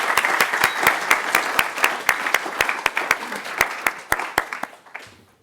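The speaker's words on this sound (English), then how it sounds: "I'd like to give them another quick round of applause." An audience at an Open edX keynote gives a short round of applause, with steady crowd clapping under a series of sharp, loud claps close by, all fading out after about five seconds.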